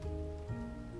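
Rain patters steadily in a video game, a brief soft hiss of falling drops under a faint tonal hum.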